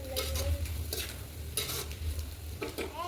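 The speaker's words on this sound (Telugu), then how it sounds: "బాగా కలుపుకోవాలి" Egg fried rice masala with soy sauce and chilli powder stirred in a pan: a steady low sizzle runs throughout, with about four bursts of scraping stirring strokes, close and moderately loud, and no talking.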